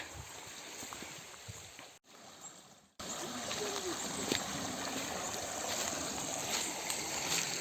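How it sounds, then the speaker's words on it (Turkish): A creek rushes across a hiking-trail crossing at Patlak Pınarı near Kemaliye in autumn. The steady, close broadband flow dips briefly, then returns fuller and continues unbroken. "Yine bir dere geçiş evet."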